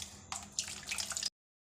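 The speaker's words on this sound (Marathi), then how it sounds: "थोडंसं पाणी घालायचं, जास्त नाही." A little water trickles briefly into wheat batter in a close, soft splash lasting about a second, then cuts to silence.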